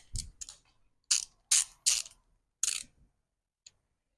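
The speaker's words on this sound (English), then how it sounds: "Just grab your spark plug socket, 3/8 ratchet." A 3/8 ratchet with a spark plug socket clicks on a 2005–2009 Mustang GT engine, several short, sharp bursts of pawl clicks in uneven succession, close and crisp, with a faint tick at the end.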